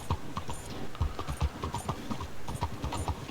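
Horse hooves clip-clop steadily as a rider travels through a town in a video game, with a brisk, close, rhythmic pattern of hoof strikes throughout.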